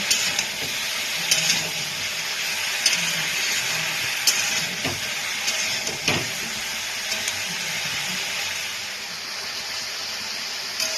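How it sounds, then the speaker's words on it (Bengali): Mixed winter vegetables frying with salt and turmeric in a wok, a soft continuous sizzle broken by regular stirring scrapes and light clinks of the spatula. "এটা কিছুক্ষণ একটু আমি ভাজা করে নেব"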